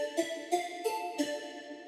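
A soft ambient pluck synth is layered over a breathy flute preset from Alchemy and plays four gentle, evenly spaced notes above a sustained airy tone. It sounds quiet and filtered, with no voices.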